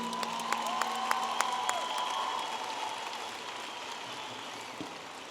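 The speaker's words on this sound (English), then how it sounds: "a round of applause for the master's graduates from the College of Business" Steady applause from a large crowd at a university commencement ceremony, a continuous wash of clapping with a few sharper claps standing out, fading slightly toward the end.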